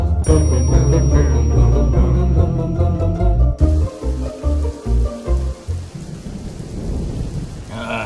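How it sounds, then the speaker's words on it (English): Rain falling outdoors as a storm sets in, a loud, steady wash of drops with deep rumbling beneath, the texture shifting partway through as the downpour thickens and then settles into a constant hiss. "It's raining."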